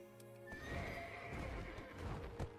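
A horse neighs in Black Desert, one long, loud whinny close by, with a few hoof thuds mixed in and a sharp snort near the end. No voices.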